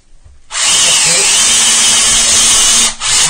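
A power drill fitted with a bit bores into plasterboard for a wall-plug shelf fixing. It gives a loud, close, high whine that runs steadily for about two and a half seconds, stops briefly, then starts again.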